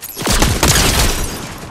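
A sniper shot strikes the player in Fortnite, a sharp close report followed by a rumbling boom and scattered gunfire that ring on for over a second.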